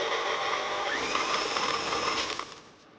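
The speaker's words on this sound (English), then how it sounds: "Quickly turn your mixer onto full speed for about a second or 2, then right back off again" Electric stand or hand mixer whirring loud and steady for over two seconds while mixing chocolate chip cookie dough, then cutting off abruptly to quiet.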